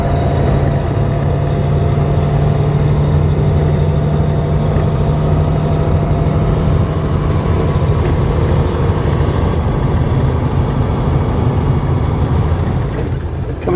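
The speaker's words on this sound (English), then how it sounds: "These guys just go through the gears" A pickup truck hauling an RV drives along, its engine giving a loud, close, steady drone that holds nearly constant throughout with no clear breaks for gear changes and no talking.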